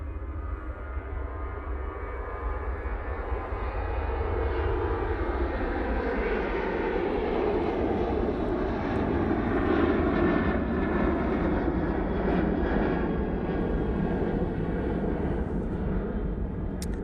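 A Ryanair airliner at Manchester Airport produces a broad, steady engine roar that swells slightly and holds for the whole stretch, heard from a distance without voices.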